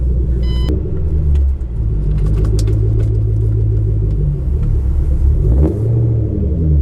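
A 900whp Shelby GT500 V8 engine rumbles deep and loud as the car drives the Tail of the Dragon, revving up and down between gear changes.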